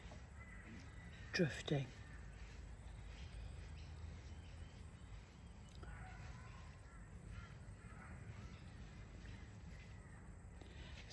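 Garden birds calling, with two brief, crow-like caws near the start and faint occasional calls afterward, soft and somewhat distant over a low background hum while a person talks.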